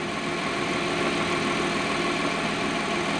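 A 2022 Genesis GV70 engine idling steadily and continuously with a misfire, a low rumbling hum with a slightly uneven, rough texture throughout.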